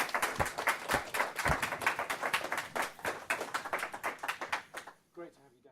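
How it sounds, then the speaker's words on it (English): A team claps together in a sustained round of applause, dense and steady up close, fading out in the last half second. "So anyway, give yourselves a round of applause."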